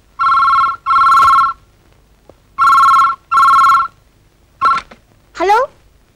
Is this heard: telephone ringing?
yes